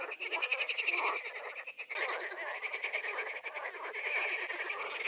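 A dense chorus of frogs croaking continuously in reeds by the water while fishing, many overlapping rapid rattling calls forming a loud, steady wall of sound with no talk.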